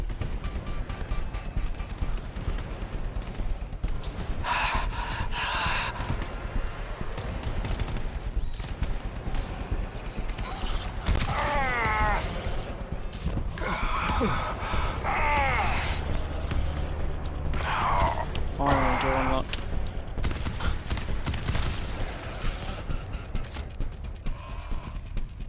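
Automated sentry turrets firing in the video game GTFO, with dense bursts of mechanical gunfire and clanking that rise and fall across the stretch and stay loud and continuous throughout.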